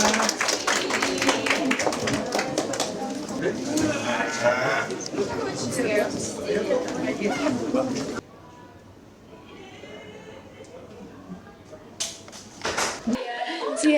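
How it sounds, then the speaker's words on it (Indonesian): An audience at a student film festival session claps briefly and loudly for several seconds, then the room drops to a quieter hum before a voice resumes speaking. "Beri tepuk tangan kita semua"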